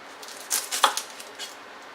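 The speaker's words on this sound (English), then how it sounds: "Cut off the ends." Kitchen knife trimming the ends off an onion on a board: two or three quiet, crisp cuts and taps close by, with no talking.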